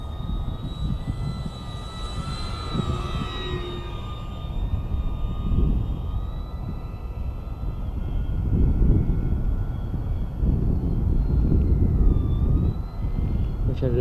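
A model airplane with flaps down passes low, its engine whining steadily through high-pitched tones and swelling louder midway.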